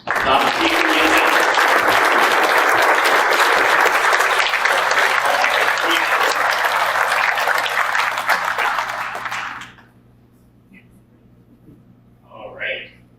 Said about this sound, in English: crowd, give them a big round of applause.